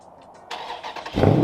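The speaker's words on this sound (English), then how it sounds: "Boom, your car started." The V8 engine of a 2020 Dodge Charger 392 Scat Pack starts by remote, with a short cranking whir followed by a loud, deep rumble as it catches, heard close and alone.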